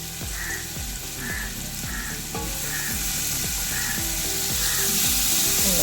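Onions sizzling steadily in a hot pan for mutton biryani, a loud, continuous frying hiss close by, with faint rhythmic scraping and clinking as they are stirred.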